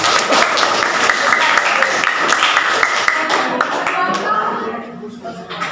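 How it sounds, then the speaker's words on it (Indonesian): A classroom of students claps together in an Indonesian lesson, brisk and loud at first and then thinning out and fading near the end, with voices mixed in. "tepuk tangan untuk kita"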